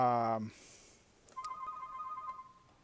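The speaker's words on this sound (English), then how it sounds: "I think somebody's calling me on my truck phone." A truck phone rings in Farming Simulator, a repeated electronic ringtone of steady tones starting about a second in and continuing evenly, following a brief burst of a voice or other sound at the start.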